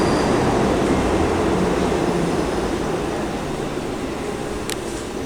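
Train arriving at Glasgow Queen Street station, a loud steady rumble of rolling stock filling the platform, continuous and close with a brief high squeal near the end.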